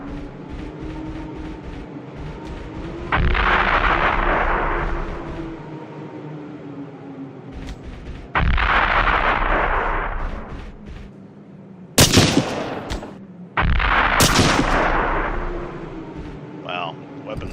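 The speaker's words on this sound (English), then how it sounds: "reduce the range of that machine gun" Machine gun fire in a video game rings out in long loud sustained bursts, three or four volleys separated by pauses, with a steady low engine-like rumble and some speech underneath.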